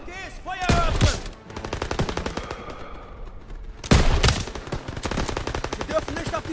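Sustained machine gun fire in Call of Duty: WW2, rapid rhythmic bursts of close, loud shots with a brief lull before a second heavy volley, continuing under battle noise.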